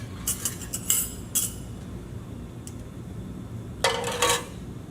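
Metal utensil clinking against a pot while stirring saimin broth, a few short bright clinks early on and another cluster near the end, fairly close over a quiet simmering background.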